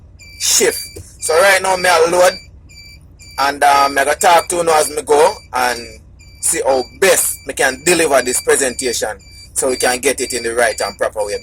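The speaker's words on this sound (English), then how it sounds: "Sorry about that beeping sound there, one cab sound, I can't find the cab sensor" A repeated cab sensor warning beep sounds at steady intervals inside a Shacman truck cab beneath someone talking continuously, with a low engine hum underneath.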